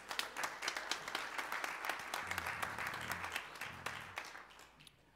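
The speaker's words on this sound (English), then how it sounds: "So let's give the parents a round of applause." A church congregation applauds the parents at a Scout Sunday morning service, a dense, steady round of clapping that fades toward the end, with some low murmuring voices underneath.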